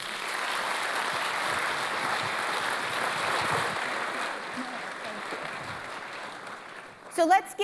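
Applause from an audience at a regional economic outlook event, honoring economist Gary Schlossberg; steady dense clapping that slowly thins toward the end, where a voice briefly breaks in.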